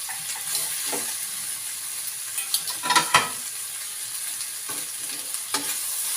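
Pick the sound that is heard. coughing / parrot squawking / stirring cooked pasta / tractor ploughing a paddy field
stirring cooked pasta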